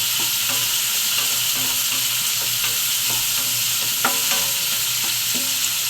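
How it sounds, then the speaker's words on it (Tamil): Tomatoes sautéing in a pan for a spicy Tamil curry, a steady loud sizzle and hiss of frying with intermittent scraping clicks of a spoon stirring, no talking. "தக்காளி வதங்கட்டும்ப்பா."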